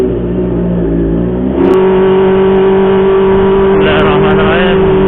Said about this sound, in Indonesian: kita nyoba knalpot yang blar-blar ya